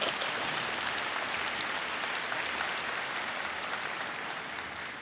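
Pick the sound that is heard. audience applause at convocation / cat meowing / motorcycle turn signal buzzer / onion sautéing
audience applause at convocation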